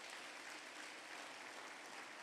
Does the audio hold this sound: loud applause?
yes